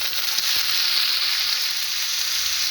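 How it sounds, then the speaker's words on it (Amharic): A roast is turned in a pan of melted butter with onions, giving off a steady, bright sizzling hiss up close with one faint scrape of a utensil. "የሽንኩርቱንና የቅቤውን ጣዕም እንዲወስድ እያገላበጥን ትንሽ እንጠብሰዋለን።"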